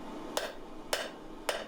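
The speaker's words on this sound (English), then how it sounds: "I'm going to hammer that down, bring that up." Three evenly spaced, sharp hammer blows ring out on hot steel while forging the tip of a mosaic damascus bushcraft knife with a san mai edge, each strike crisp and close with quiet gaps between.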